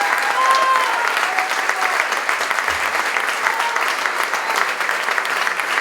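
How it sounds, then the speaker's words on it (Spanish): An audience at the inauguration of an experimental theater space applauds loudly, a full, continuous crowd ovation of many clapping hands lasting several seconds, with faint voices mixed in. "para el que cabe que le dediquemos un aplauso así fuerte"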